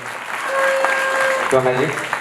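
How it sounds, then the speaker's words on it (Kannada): An audience at a live comedy show applauds performer Shrishaila Poogar, a dense wash of clapping heard with a steady tone and a short burst of voice over it. "ದಯವಿಟ್ಟು ಒಂದ್ಸತಿ ಜೋರಾದ ಚಪ್ಪಾಳೆ ಶ್ರೀಶೈಲ ಪೂಗಾರ್ ಅವರಿಗೆ"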